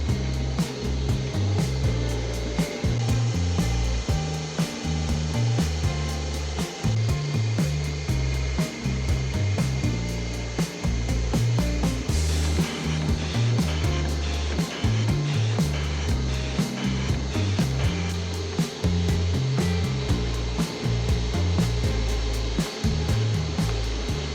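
A machine runs steadily in a small printing shop, a dense rhythmic mechanical clatter of repeating cycles that stays loud and constant throughout with no speech.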